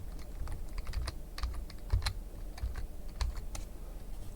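Someone types an admin username and password on a computer keyboard, with quick, uneven clicks of keys, close and clear, with a few firmer strokes in a quiet room.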